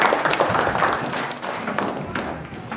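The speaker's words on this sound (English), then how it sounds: "A round of applause for Chitra." A short burst of audience applause at a Holi 2016 community function, dense clapping from a room full of people, fairly close and steady, with a few thumps and some crowd murmur mixed in.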